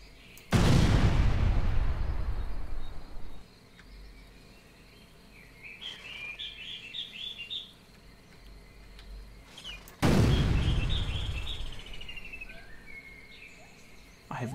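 Two heavy ship cannon shots boom out in the Caribbean! game, each a loud blast with a long rumbling decay, separated by quieter ambience with chirping birds and light insect noise.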